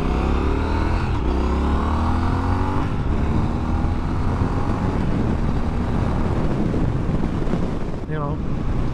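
2023 Triumph Scrambler 1200XE Chrome motorcycle engine pulling through the gears, rising revs with shift breaks under heavy wind noise from riding, loud and close, with a voice talking over it.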